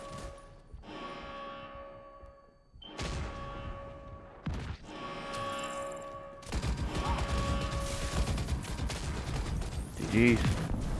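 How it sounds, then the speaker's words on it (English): Mortar fire in The Division, a co-op shooter game: bursts of heavy gunfire and explosive impacts surge loud and dense through the middle and end, with scattered mechanical clatter and players talking over it. "that's mortar"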